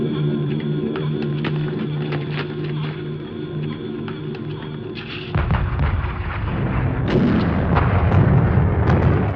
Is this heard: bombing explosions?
yes